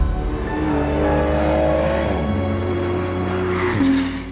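A Porsche 935 race car engine sounds a loud, harmonic, throaty drone that climbs in pitch, then drops abruptly at two gear changes before rising again.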